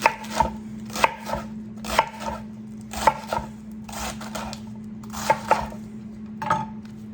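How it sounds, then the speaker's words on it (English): A knife chopping salad greens on a cutting board, sounding as a steady series of sharp, close, evenly spaced thunks, about one per second, with no talking. "I'm gonna chop all this much more so it's a chopped salad."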